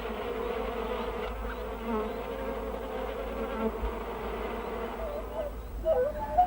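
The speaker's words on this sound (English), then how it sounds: "the bee returns to a hive which is on the move" A bee flies back to a hive that is on the move, a steady, close insect buzz that holds throughout, outdoors in the wild amid soft background ambience.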